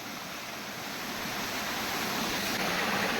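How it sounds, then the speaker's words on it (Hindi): A small waterfall in a jungle pours steadily, its broad, even rush of falling water holding close and constant throughout with no voices over it. "ये देखो छोटा सा वाटरफॉल है"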